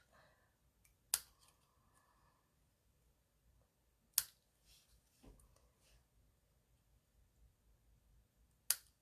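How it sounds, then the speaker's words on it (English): Scissors snip through pink card stock to cut out side pieces for a handmade Christmas card, giving three sharp, isolated clicks spaced a few seconds apart against a quiet room. "I'm just going to cut out the 2 polished pink side pieces"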